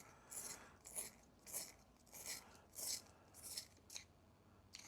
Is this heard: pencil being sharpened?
yes